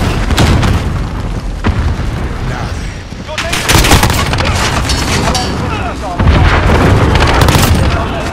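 Heavy booms and gunfire in a Call of Duty: Modern Warfare multiplayer match, with a cruise missile blast among loud, repeated explosive bursts and a voice talking over parts of the action.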